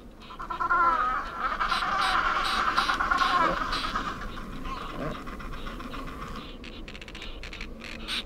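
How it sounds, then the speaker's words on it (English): Petrel colonies in Antarctic spring calling during courtship displays, a dense chorus of shrill, overlapping cries and chatter with bursts of fluttering, loud at first and thinning toward the end. "The fluttering and the noise come mostly from colonies of petrels, still busy at their courtship displays."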